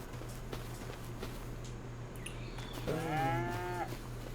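A low, drawn-out moo from a water buffalo rises near the end, over a steady background hum and faint rustling.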